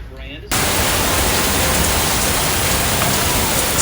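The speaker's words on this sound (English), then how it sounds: "But it started raining." Rain hammers down on a sailboat at anchor, a loud, dense, constant hiss of drops that starts abruptly and fills the whole space, close and unbroken.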